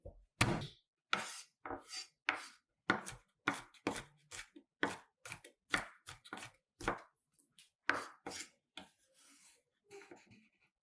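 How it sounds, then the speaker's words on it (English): A knife chops crushed garlic into rough pieces on a board, about twenty crisp, evenly paced strikes, close and alone, trailing off into softer scrapes at the end. "crush 50 grams of garlic and lightly chop them to get rough pieces"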